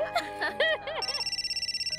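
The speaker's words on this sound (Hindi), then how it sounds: "अरे फोन" A telephone rings in a home scene from a Hindi TV drama, a fast repeating electronic trill that follows a moment of indoor talk and carries on steadily to the end.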